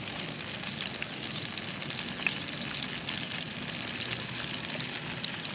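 Steady frying sizzle of ginger in a pan, continuous and even throughout, with faint scraping from stirring and no talking.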